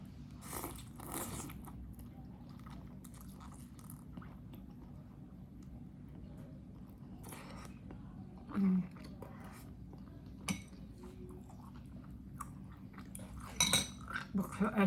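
Cutlery clinks and scrapes against a bowl while bakso aci is eaten, with soft chewing and occasional sharper taps, close and quiet in a small room.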